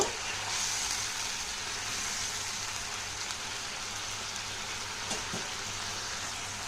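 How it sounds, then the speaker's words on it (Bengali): A spice mix with turmeric and salt for a fish curry sautés in a pan, giving a steady, even hiss of frying throughout, with a faint tap or two and no talking. "তো এবার মশলাটা কষিয়ে নেব।"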